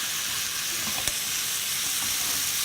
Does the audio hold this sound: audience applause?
no